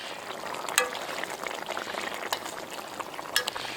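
Fish pieces simmer and fry in a curry gravy in a pan, giving a steady close crackling sizzle with bubbling and a few sharper pops and clicks, and no talk.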